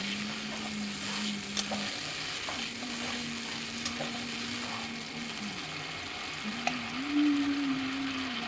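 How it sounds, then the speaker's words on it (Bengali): Hot water stirred into a ginger-garlic paste masala in a pan, giving a continuous close sizzle and bubbling with soft stirring scrapes over a steady low hum, with no talk. "এই যে গরম জলটাই অ্যাড করে দিলাম"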